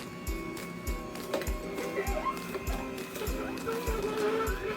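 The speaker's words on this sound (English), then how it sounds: "So this juicer here, it really pulls everything out of it. It grinds everything up." A juicer grinds lemon and other fruit and vegetables, sounding as a rough, continuous motor churn with regular rhythmic thumps and rattles, close and fairly loud.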